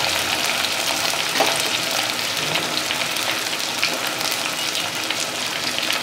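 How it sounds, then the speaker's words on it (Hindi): Chicken pieces frying golden in hot oil, a loud, dense and steady sizzle close up, with a few faint stirring touches and no voices. "चिकन को इसमें गोल्डन फ्राई कर लेते हैं"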